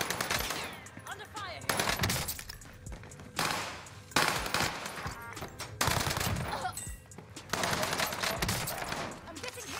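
Automatic gunfire in Call of Duty Warzone on Rebirth Island with M13 and AS44 rifles, dense rapid bursts with short gaps between them, loud and close.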